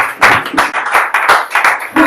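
A congregation at a church service claps in acclamation, with quick rhythmic hand claps in a steady, energetic beat, loud and close, filling the whole short stretch.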